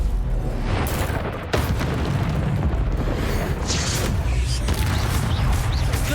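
A Descendo spell slamming down in the video game Hogwarts Legacy, loud booming impacts under a dense, rumbling wash of game noise with a sharp burst partway through.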